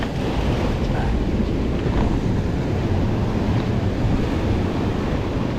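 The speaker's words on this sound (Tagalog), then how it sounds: "Ang malakas ang alon" Strong sea waves roar in a dense, unbroken wash of surf, mixed with steady wind buffeting the microphone, during heavy rain.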